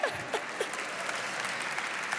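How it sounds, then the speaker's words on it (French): An audience at a Creole Christmas event in Avignon bursts into applause, a dense burst of clapping that starts loud and fades slightly while holding steady across the moment. "Applaudissements, s'il vous plaît."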